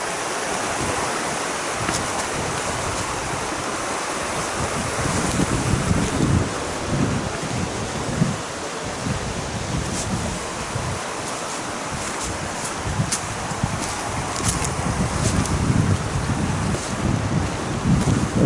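A river in Sasquatch Valley rushes continuously outdoors while gusts of wind buffet the microphone, with no voices.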